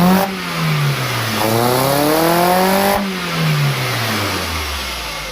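A Ford Zetec 1800 engine fitted with motorbike carburettors revs up and falls back in a couple of swells on the idle circuit, loud and close with no voices.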